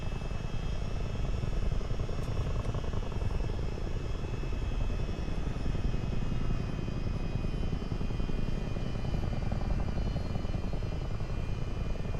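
A Chinook twin-rotor helicopter flies in Microsoft Flight Simulator 2024, its engine and rotor drone steady, loud and unbroken for the whole stretch, with no voices.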